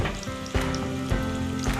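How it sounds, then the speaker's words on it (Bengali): Chopped onion frying in hot oil in a pan, a steady close sizzle and crackle that runs without a break and is heard on its own, with no talk. "পেঁয়াজটা আমাকে ভাজা করতে হবে যতক্ষণ এর রঙটা চেঞ্জ না হয়"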